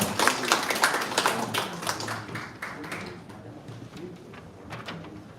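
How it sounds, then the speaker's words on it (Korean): Congratulatory clapping at a Rotary Club scholarship ceremony, a modest burst of distinct claps that thins out and fades to scattered taps. "다시 한번 축하의 박수 부탁드리겠습니다."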